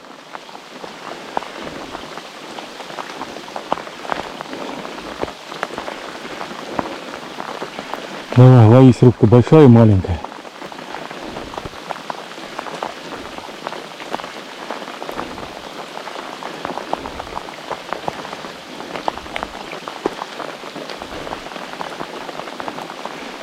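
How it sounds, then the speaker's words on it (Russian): Steady rain patters on a river surface around a fishing boat, a dense even hiss throughout, while someone talks and a short loud burst of an electronic tune sounds briefly midway. "Телефон ему сказал, что в ближайшие 2 часа дождь не прекратится"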